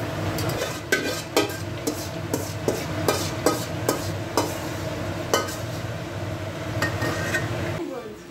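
Masala being stirred and cooked in a kadai, with a steady low sizzle and repeated scraping, clinking strokes of a spoon against the pan at an irregular rhythm, close and moderately loud.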